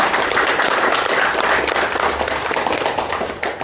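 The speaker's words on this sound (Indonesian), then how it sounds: "Tepuk tangan untuk Maha Guru kita." An audience gives the teacher a full, loud round of applause, with dense clapping that fills the room without a break.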